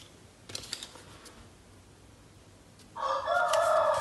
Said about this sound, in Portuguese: E olha o seu galo aparecendo aí para dar um bom dia ainda para vocês